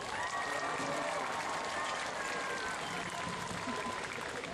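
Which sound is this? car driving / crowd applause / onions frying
crowd applause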